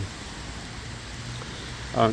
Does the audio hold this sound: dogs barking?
no